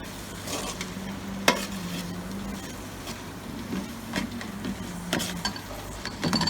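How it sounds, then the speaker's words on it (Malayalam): Tomatoes are stirred into masala frying in a pan for duck curry, a steady close sizzle with scraping spoon strokes and occasional sharp knocks against the pan. "അപ്പൊ നമുക്ക് ഇതിലേക്ക് നമ്മുടെ തക്കാളി ഇട്ട് കൊടുക്കാം അപ്പം നല്ലതായിട്ട് ഇളക്കി കൊടുക്കാം"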